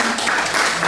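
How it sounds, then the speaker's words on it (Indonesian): Audience applause during a church gathering, a brief burst of dense, steady clapping from a crowd, fairly close and without pause. "Ya kita tepuk tangan buat Diaspora dulu."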